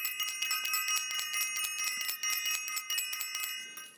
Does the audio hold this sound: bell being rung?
yes